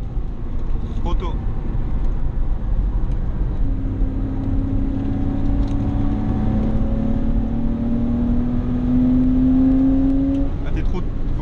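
Porsche Boxster 986 2.5 engine accelerating hard on the Nürburgring, heard from inside the car as a steady loud drone with rising engine tones, while people talk over it throughout.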